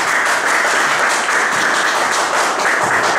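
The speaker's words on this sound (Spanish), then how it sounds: "quiero por favor pedirles un fuerte aplauso para poder recibir a nuestro exponente" A crowd applauds steadily, a dense wash of clapping held at even loudness throughout with no voices on top.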